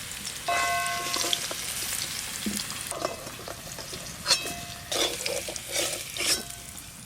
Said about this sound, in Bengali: আলু আর গাজর বেশ লাল লাল করে ভালো করে ভেজে নিয়েছি